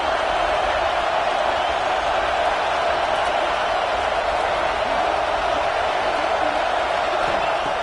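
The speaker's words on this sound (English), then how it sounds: "here comes the noise. This crowd is trying to inspire this defense" A large college football stadium crowd roars steadily during a red zone defensive stand, a dense, continuous wall of noise that holds at the same level throughout.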